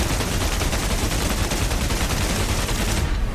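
A BF-109 K-4's cannon and machine guns fire together in the DCS World flight game, a dense, loud, continuous burst of rapid gunfire lasting about three seconds before cutting off.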